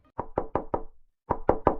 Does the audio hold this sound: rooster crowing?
no